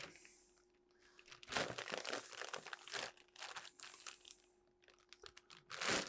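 Closed plastic bags holding raisins and lemon or lime powder being shaken, with loud, close crinkling in irregular bursts after a quiet start.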